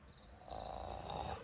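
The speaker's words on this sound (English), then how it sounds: "Stop snoring in my face." A person snores in soft, raspy breaths heard close up, the low rumble swelling midway and holding steady, fairly quiet throughout.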